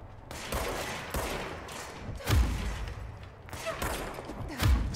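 Enemy gunfire in the Control video game, with several loud bursts of rapid shots and heavy booming impacts at intervals, mixed with game noise.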